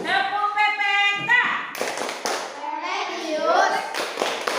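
A classroom of children performs the Tepuk PPK clapping routine, a quick rhythmic series of close claps and taps mixed with children's chanting voices, followed by continued talk.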